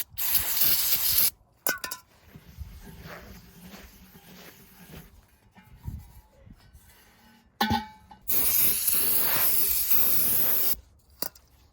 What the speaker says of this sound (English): Now I'm gonna go ahead and brake clean all this and prep it for the gasket.